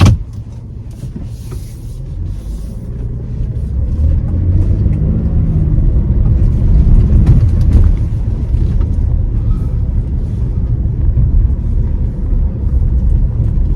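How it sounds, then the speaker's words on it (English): A 2023 Chevy Traverse RS pulls away and drives, its low engine and road rumble rising after a few seconds and holding steady, close and fairly loud, with no talk. "Let's take this car out for a spin."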